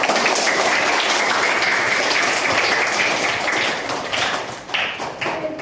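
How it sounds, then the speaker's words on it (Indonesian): A class of schoolchildren claps their hands together in a lively, dense burst, the sound close and fairly loud, with some uneven taps and thumps as it begins to trail off near the end. "Bagus sekali, tepuk tangan."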